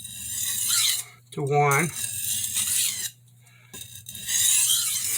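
Santoku knife blade drawn across a sharpening stone in a few rasping strokes, close and fairly loud, with short gaps between passes and brief talk in between.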